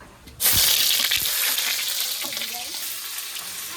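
Onion sizzling in hot oil in a pan with cumin seeds and bay leaf, a loud burst of frying that starts abruptly and keeps hissing steadily and close, with faint stirring.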